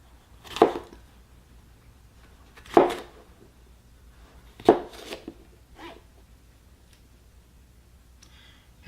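A super-sharp paring knife slices three colors of produce for shish kabobs, giving four crisp, separate chops spaced about two seconds apart, the last one softer, with no talk.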